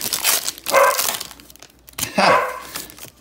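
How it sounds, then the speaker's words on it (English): A dog barking twice nearby, loud single barks about a second and a half apart, with faint card-wrapper crinkling in between. "If you do hear a dog bark"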